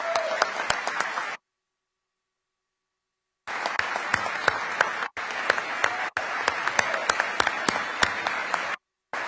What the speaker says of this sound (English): I want to applaud you for that.